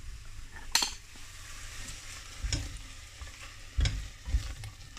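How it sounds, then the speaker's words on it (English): Passata goes into a pan of Carolina Reaper nacho chilli, which sizzles softly while a utensil stirs and scrapes against the pan in several separate, close-up strokes. "So I'm just going to add my passata now."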